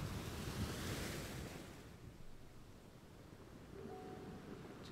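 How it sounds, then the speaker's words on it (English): Ocean waves wash in a broad, steady hiss with a swell in the first couple of seconds, fairly faint and distant, with wind noise and no speech. "Just listen to the waves"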